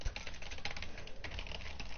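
Rapid, uneven clatter of keys pressed on a computer keyboard during a game stream, close and steady with no talking.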